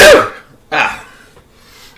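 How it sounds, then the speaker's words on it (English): A single loud sneeze bursts out close to the mic, followed by a softer exhale and faint breathing in a quiet room. "I'm going to sneeze."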